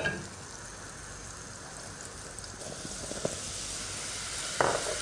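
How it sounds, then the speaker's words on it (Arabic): Flour being whisked into melted butter and oil in a pan, a soft continuous sizzle with a few light scraping clicks from the whisk. "باستعمال مضرب خفيف مجرد اني حقلب الزبده بهذا الشكل مع الطحين"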